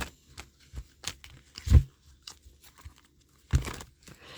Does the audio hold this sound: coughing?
no